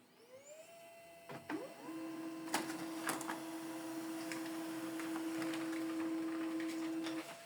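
An HP LaserJet M107W printer whirs into action with a few clicks and clunks, then settles into a steady mechanical hum with a high whine as the page feeds through.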